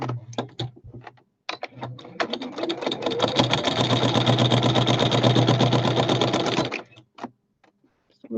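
A sewing machine runs steadily for about five seconds, stitching across a scrap piece of fabric, with a rapid even needle clatter bracketed by short start-stop bursts.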